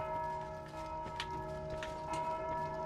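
A bell rings in the dark fantasy game Dark Souls II, a sustained metallic toll with lingering ringing overtones, heard moderately loud with a few faint ticking sounds and no talking.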